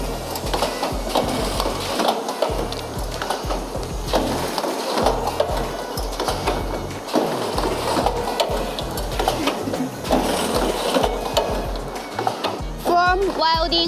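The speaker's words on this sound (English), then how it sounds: "this one is Richpeace semi-automatic headband welding machine" A Richpeace semi-automatic headband welding machine runs with rapid, continuous mechanical chattering and clacking, and a short whirring burst comes near the end. A voice speaks over the noise.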